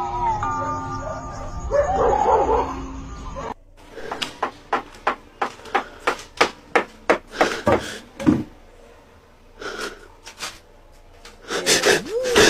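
Stray dogs bark in a rapid series of sharp, evenly spaced barks after a short stretch of voice and music, then a few scattered louder barks and yips, fairly close.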